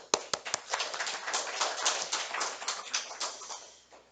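A church congregation claps together in a steady rhythm of brisk, close, moderately loud claps that keeps going for several seconds without talk.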